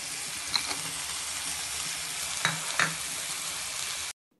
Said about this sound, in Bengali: পেঁয়াজ রসুন বাটা দিয়ে আরও কিছুক্ষণ সময় ভেজে নিব।